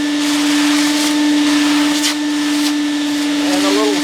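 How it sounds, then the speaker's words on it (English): A shop vacuum runs loud and steady with a strong droning whine while cleaning crud off the door of a wood-fired outdoor boiler, its pitch wavering slightly as the nozzle moves, with someone talking under it. "And I always vacuum the door off"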